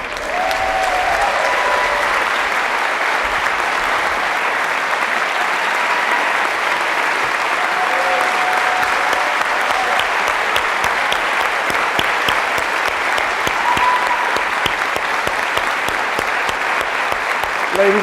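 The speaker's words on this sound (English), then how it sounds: "Let's give them a nice round of applause." Sustained audience applause at the Anchorage State of the Schools Address, a dense, loud wash of many hands clapping continuously, with faint voices and cheers mixed in.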